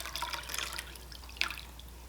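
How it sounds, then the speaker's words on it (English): A purple dye bath goes into warm water, giving faint, scattered drips and small liquid splashes with one brighter drop near the end, all quiet and close. "I'm gonna put the dye bath in."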